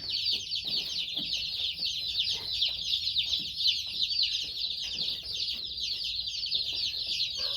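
A dense chorus of about 100 young Freedom Ranger chicks chirps continuously and loudly, high-pitched and overlapping, with no pause and no talking.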